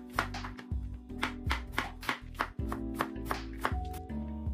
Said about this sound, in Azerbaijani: Yarım kələmi ortadan iki hissəyə ayırıram və incə laylay doğrayıram